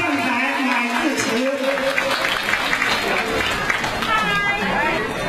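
Audience applause welcoming a speaker to the stage at a Fuzhou Tingjiang Middle School alumni association gathering, a steady dense clapping wash with crowd murmur that fills the whole stretch at an even level.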